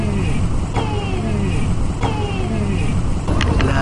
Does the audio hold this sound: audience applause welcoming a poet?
no